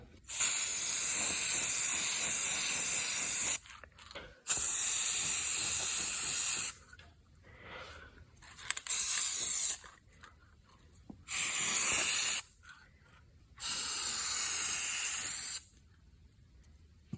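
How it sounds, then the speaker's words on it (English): Several long hissing bursts from an aerosol spray paint can onto a model diecast car body, each lasting a few seconds, close and loud, separated by quiet gaps with faint handling noises. "get our spray paint opened up here and get spray paint in the body"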